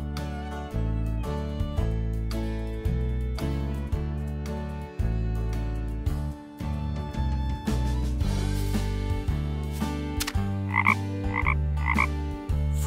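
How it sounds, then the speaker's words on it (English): A frog croaks loudly and repeatedly in a regular, rhythmic series of deep, rasping pulses, heard close up with no talking. "Frog."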